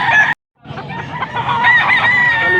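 A young gamecock stag crows at an auction in Angeles, Pampanga: a brief loud call, a short silence, then a longer harmonic crow close by.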